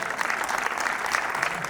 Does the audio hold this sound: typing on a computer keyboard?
no